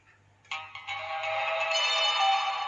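A Nokia N97 ringtone with a flyby effect starts abruptly and plays continuously with a warped, shifting pitch, as if swooping past, growing slightly louder toward the end.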